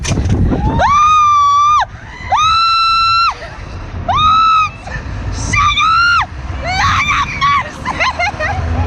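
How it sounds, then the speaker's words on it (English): A woman lets out a series of long, loud, high-pitched screams while speeding down the world's fastest zip wire, about six drawn-out shrieks in a row, with splashy outdoor background noise beneath. "we just got hilarious footage of her just screaming all the way down"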